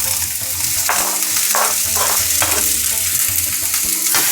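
Onion and cumin frying in oil for baingan bharta in a home kitchen in Germany, making a loud, close, continuous sizzle, with bursts of spatula stirring scraping through the pan at a regular pace.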